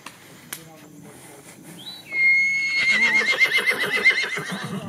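A nervous horse gives one loud, shrill whinny that rises and then wavers for about three seconds, close to the listener, after a few faint knocks and quiet sounds.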